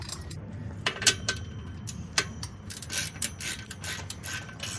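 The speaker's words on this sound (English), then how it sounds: "go grab our ratchet with the same socket and loosen it a little quicker" A ratchet with a socket loosens an exhaust bolt on a 2019 Ford Ranger during an exhaust install, giving quick, fairly faint clicking and metallic rattling bursts over a low background rumble.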